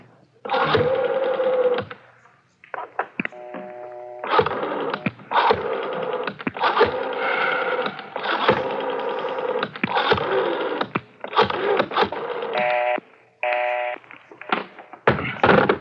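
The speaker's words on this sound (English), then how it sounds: "She ought to know I'm trying to get her. What's the matter, Garvey? Don't forget dial 9" A radio drama sound effect of a telephone being dialed, with repeated rotary-dial whirs and clicks in short bursts broken by brief pauses and a couple of thunks, close and loud, with no speech.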